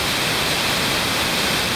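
Haew Krathin waterfall, nearly 70 metres tall and dropping in three tiers from the Khao Yai forest, gives a steady, dense roar of falling water that fills the air with no other sounds.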